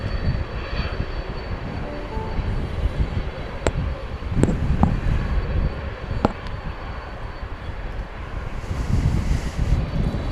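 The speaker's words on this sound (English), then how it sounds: "And that aforementioned Delta flight is indeed coming in on the east side of" A Delta airliner coming in to land on the east side of DFW airport on a windy night, its engine roar a steady, broad rumble heard from a distance under gusting wind noise.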